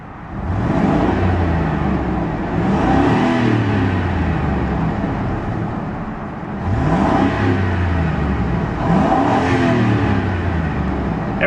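A 2004 Ford Expedition Eddie Bauer with its 5.4 liter Triton V8 is revved repeatedly from idle. Loud, close engine swells rise and fall in two pairs of throttle blips, with no talking.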